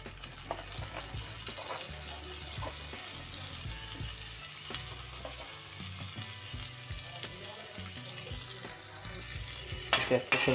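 Egg bhurji frying in oil in a pan, a steady sizzle with repeated scraping stir strokes, moderately quiet and close, louder clatter at the very end.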